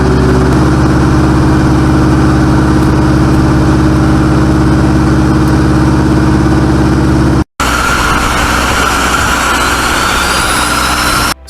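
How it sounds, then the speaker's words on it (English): Small propeller drone engines droning loudly and continuously, a harsh steady buzz with a brief cut partway through before resuming with rising whine tones. "tiny engines are buzzing through the darkness"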